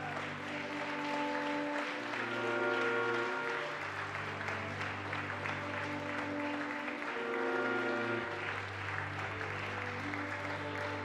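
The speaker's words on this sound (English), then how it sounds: "Let's give one more round of applause" Attendees at a global business summit applaud over loud stage music with sustained tones. The clapping forms a moderate crowd texture that carries through the whole stretch.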